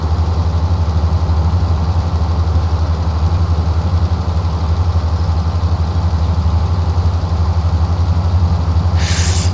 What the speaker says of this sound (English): I feel like I can hear the tractor actually.